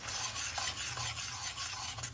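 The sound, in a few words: stirring and frying chili paste in a pan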